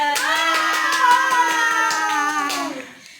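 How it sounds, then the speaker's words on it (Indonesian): A seventh-grade Indonesian-language class claps together in a classroom: quick, rhythmic group claps, close and fairly loud, under a sustained voiced tone, ending abruptly after about three seconds. "Beri tepuk tangan untuk Mbak Fada."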